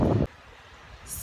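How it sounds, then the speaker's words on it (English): Gusty wind on a seaside jetty in Alcudia buffets the microphone in a low rumbling roar, beginning with a loud burst and then settling into a softer steady blow. "It's quite windy, a little bit cool"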